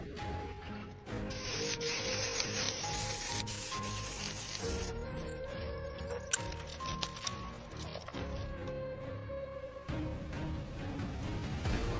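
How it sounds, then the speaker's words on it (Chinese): Rusty iron support brackets from a flood-damaged BMW X5 are sanded by hand before painting, giving steady, rasping strokes with occasional scrapes and clicks, close and continuous throughout. "打磨一下，讓油漆的附着力更強。"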